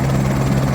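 Six-passenger helicopter departing a helipad near Yamunotri, a loud steady rotor and engine drone filling the whole moment with no pauses or voices.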